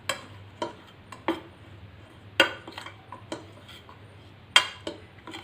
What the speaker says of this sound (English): So let's stir.